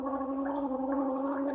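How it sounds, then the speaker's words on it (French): A woman gives a long, drawn-out voiced burp, a steady gurgling tone held without a break, fairly quiet and heard alone. "Qu'elle rote devant vous."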